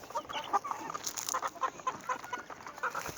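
Chickens, including Brahma breeds, cluck and chatter in short bursts, several birds calling close by in an otherwise quiet yard.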